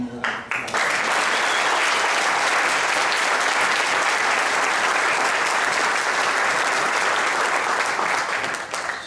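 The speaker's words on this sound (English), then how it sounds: "if you could give them a round of applause" A crowd at a birthday celebration gives the staff a long, dense round of applause that holds steady and loud for about nine seconds with no break.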